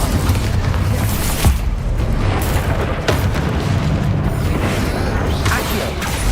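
Bombarda spell explosions in Hogwarts Legacy, several booming bursts and crackling impacts spread over busy game combat noise, fairly loud and continuous.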